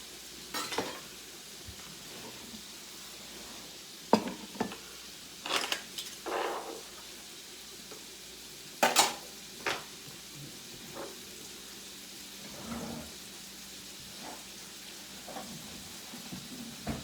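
Caribou curry sizzling softly in a pan, a faint steady fry under scattered stirring clatters and scrapes of a utensil, quiet and close, without talk.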